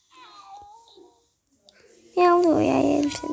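A cat meows loudly and close in a home while items are being unpacked, with a strained, wailing cry that fills the second half, after quieter speech from a child or woman earlier.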